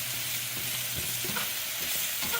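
Onions and peppers sizzle steadily in a hot frying pan while being stirred, with soft scraping and shuffling over a constant close crackle.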